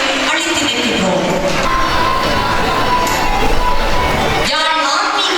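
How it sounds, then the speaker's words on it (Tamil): Sustained applause from an audience welcoming an award recipient to the stage at a spiritual conference in Jaffna, a dense, steady wash of clapping with some cheering that lasts about four and a half seconds, then drops away. "தங்களின் பலமான கரகோஷத்துடன் அரங்கிற்கு அழைத்து நிற்கின்றோம்"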